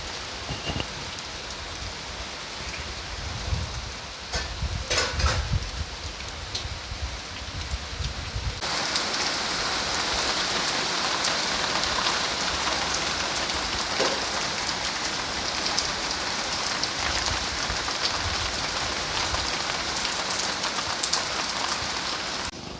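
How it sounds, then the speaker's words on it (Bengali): Heavy rain pours down in a downpour under dark clouds, starting as scattered drops and patter, then becoming a dense, steady, loud hiss on surfaces that continues to the end. "খেয়ে দিয়ে উঠে ঝমাঝম বৃষ্টি নেমে গেল, প্রচণ্ড একদম ঘন কালো মেঘ করে গেছে।"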